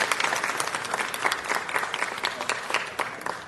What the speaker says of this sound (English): Let's give our coaches a big round of applause as well.